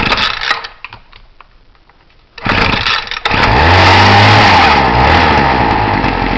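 A string trimmer gas engine fitted with a vapor carburetor sputters, cuts out to near silence, then catches again and runs loud and close, revving up and down in a strong, continuous buzz.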